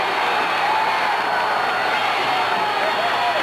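Wrestling arena crowd roaring steadily as a wrestler from the First Family stable comes down, a dense, loud sustained cheer with no pauses throughout.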